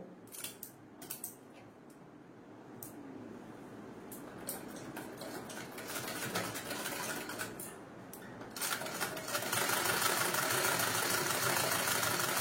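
A sewing machine stitching a semi-patti pant, its motor whirring steadily with a few short starts and stops, then running faster and louder in a continuous burst toward the end.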